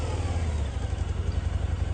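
A Harley-Davidson motorcycle engine idles and revs with a loud, pulsing low-pitched throb. It runs steadily and up close, with no voices.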